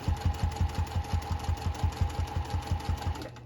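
A sewing machine stitches a quilt binding in a fast, even rhythm of close mechanical clacks for about three seconds, then stops.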